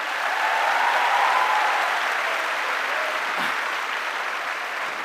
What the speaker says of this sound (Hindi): उसके बाद प्लीज जोरदार ताली हो जाए मेरी फैमिली के लिए